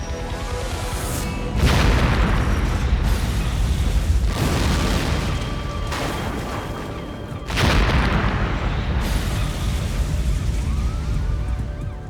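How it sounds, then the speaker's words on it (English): A van bomb detonates outside a station, producing a loud, sustained roar of blast and debris with two heavy surges, around two and seven and a half seconds, in a dense, continuous rumble. "the blast blows out scores of windows on the building's facade and sends a plume of smoke high above the city"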